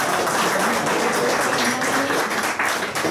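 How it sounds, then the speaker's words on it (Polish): Audience applause at a fishing Grand Prix season-summary awards ceremony, greeting a statuette for the biggest fish of the 2015 season; steady, dense clapping fills the room without a break. "Brawa!"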